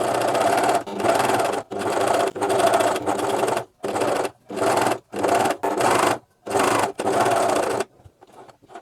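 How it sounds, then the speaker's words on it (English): Coverstitch sewing machine stitching the curved neckline of a T-shirt, running in steady whirring bursts of varying length separated by brief pauses, loud and close with no talk. "We are cover stitching on the curve"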